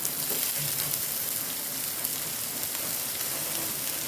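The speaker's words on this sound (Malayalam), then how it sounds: "ഇനി ഇതിലേക്ക് ഞാൻ രണ്ട് മീഡിയം സൈസ് സവാള ഇട്ട് കൊടുത്തിട്ടുണ്ട്" Two medium onions frying in a pan give a continuous dense crackling sizzle, close and steady for the whole stretch with no voices.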